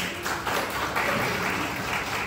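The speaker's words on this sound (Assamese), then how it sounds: "আপোনালোকে চাহ সকলোকে দিয়াৰ আগতে এটা হাত চাপৰি দিব পাৰে" Audience applause during a talk by a literary figure on stage: a steady wash of clapping from a crowd, continuous and even for a couple of seconds, moderately loud.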